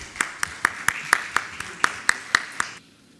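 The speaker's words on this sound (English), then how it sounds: "Round of applause for our speakers" Applause breaks out for speakers at a banking fireside chat held by a chamber of commerce, sparse and evenly spaced claps in a steady rhythm, fairly close and moderately loud, stopping abruptly into quiet.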